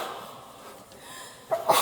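A single sneeze bursts out near the end after a quiet stretch inside a hushed library room of the old Alcatraz island prison, sharp and fairly close.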